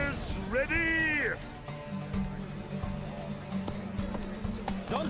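Horses clip-clop at the start of a race in Witcher 3, hoofbeats running steadily throughout with a horse whinny early on, under voices and game music.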